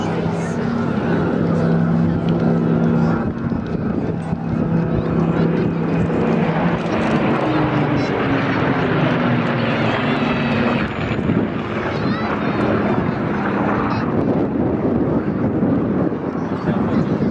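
BBMF Lancaster, Hurricane and Spitfire flying at the Dawlish air show, a loud rumbling piston-engine drone passing overhead with wind buffeting, while a voice talks throughout over a public address.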